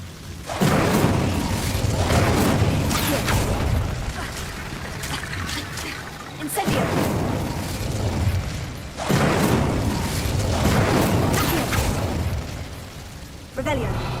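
Incendio fire spells cast in Hogwarts Legacy produce repeated roaring bursts of flame, about four surges that each swell and fade. Voices can be heard among them.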